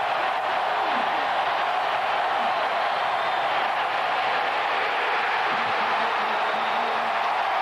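Stadium crowd at a 1998 college football game roaring steadily as the quarterback, Culpepper, is sacked, a dense sustained wash of noise throughout with no clear talk over it.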